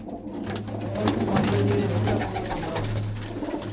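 Pigeons kept by a fancier at a rural fair coo in low, repeated throaty phrases, close and fairly loud, with faint background chatter and noise around them.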